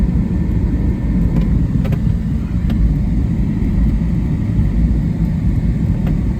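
A 1957 Ford Thunderbird engine rumbles steadily while the car cruises along a road, loud and continuous throughout, with no talking.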